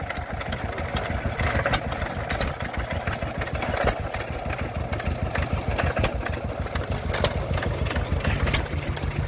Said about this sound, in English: Both of these here at the start are Monmouth engines